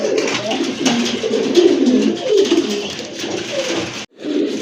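A pair of black Lahori pigeons coo up close, deep throaty rolling calls repeating and overlapping, loud and clear, cut by a brief silence near the end.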